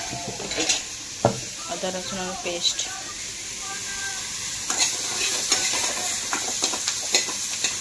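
Fish fries in a pan while being stirred, giving a soft steady sizzle with scraping stir strokes and utensil clinks close by, with a voice speaking over it.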